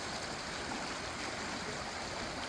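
A small creek, an old glacial brook running over gravel after a flood in Connecticut, rushes in a loud, steady wash of water close by, with no voices.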